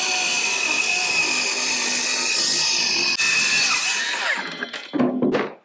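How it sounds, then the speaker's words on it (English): Power saw ripping through a sheet of CDX plywood for a shelf, a loud continuous high whine that holds steady, then winds down in uneven bursts near the end. "Let's cut this plywood"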